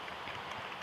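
Soft, steady rain falls in the Minecraft video game, a faint even hiss throughout with no talking.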